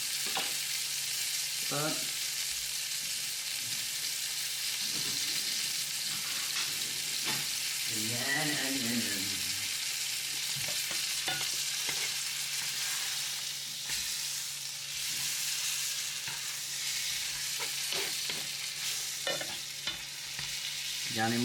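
Sole frying in a generous bath of butter, a dense continuous sizzle up close with scattered spoon and pan scrapes; a brief voice chimes in once over the crackle.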